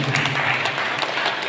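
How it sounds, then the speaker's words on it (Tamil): Congregation applause at a church feast-day Mass for a Marian birthday festival, a short steady patter of many hands clapping together in a reverberant space, with no speech over it. "கைத்தட்டி நம்மை பாராட்டிக் கொள்வோம்."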